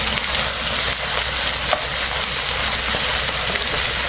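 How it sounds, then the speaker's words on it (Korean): Frozen whole shrimp stir-fried in a pan make a loud, dense, hissing sizzle that stays steady and close throughout, with faint stirring underneath. "저는 냉동 새우를 썼어요. 그래서 3분 정도는 볶아야 안심이 돼요."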